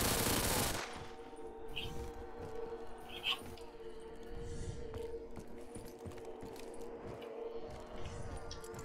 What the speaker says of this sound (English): I like that mini Uzi sound. It just sounds powerful.